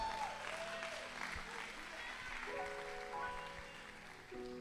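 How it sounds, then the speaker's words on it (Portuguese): Church congregation applauding the Lord during a sermon, a soft, continuous clapping heard at a distance, with music or voices sustained beneath it. "Você pode aplaudir o Senhor"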